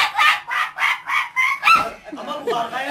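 A person imitates a duck during a party game, giving a run of six loud, nasal, honking quacks in steady rhythm, closer to a goose's honk, followed by a laughing vocal sound.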